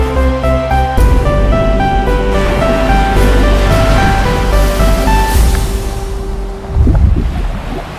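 Wind and sea waves along the Sardinian coast make a loud, steady rushing wash. Sustained musical tones sound in the first few seconds, then the noise swells and ebbs.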